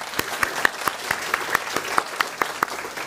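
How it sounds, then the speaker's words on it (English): Steady applause from a church congregation during an English Sunday morning service in Delhi, a dense wash of clapping hands with sharper individual claps standing out at a fairly even rhythm, moderately near and lasting throughout. "Shall we give them a round of applause?"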